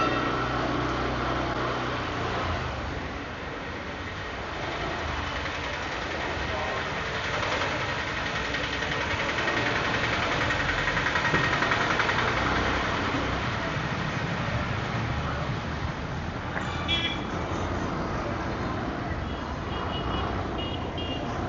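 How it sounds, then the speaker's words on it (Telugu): A motorbike rides slowly around a temple, its engine humming steadily and fairly close for the whole stretch, with wind noise and some background sounds mixed in. "ఒక రౌండ్ అయితే వేసుకొని వెళ్దాం గుడి చుట్టూ బండి మీదే."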